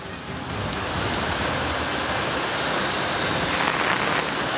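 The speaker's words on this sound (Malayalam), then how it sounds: "ഇപ്പോൾ കനത്ത മഴയാണ് പത്തനംതിട്ടയിൽ ഉണ്ടാകുന്നത്" Heavy monsoon rain falls in Pathanamthitta, Kerala, a loud, dense, unbroken hiss of water pounding the ground, steady from start to finish with no voices.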